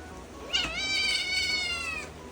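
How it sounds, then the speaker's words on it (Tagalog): A house cat gives one long, drawn-out, strained meow, close and clear over a low background hum. "kasar pa sa tenga yung meow niya"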